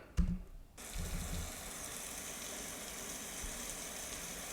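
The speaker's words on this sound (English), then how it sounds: "do you think that sound is actual real rain" After a brief thump, a steady, even hiss of rain fills the background and continues unbroken.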